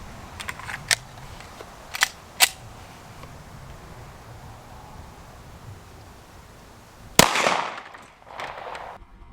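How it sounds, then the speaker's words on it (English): A single loud gunshot from a Smith & Wesson M&P 45 firing a hot 200 grain cast lead powder-coated round at a Kevlar helmet, a sharp crack with a short ringing tail, preceded by a few faint clicks and handling taps. "we're going to shoot it with a 200 grain cast lead powder coated round that I actually loaded"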